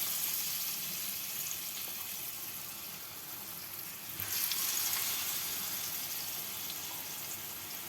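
Coconut and semolina batter is spooned into hot oil and fries with a steady bubbling sizzle, which swells briefly as a fresh drop goes in, then settles into a continuous crackle.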